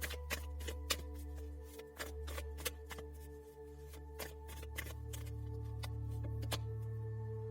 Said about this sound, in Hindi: दूसरे डेक से भी लूंगी मैं आपके लिए कार्ड।